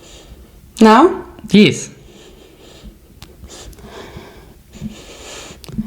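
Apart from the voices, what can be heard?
deep sniff through the nose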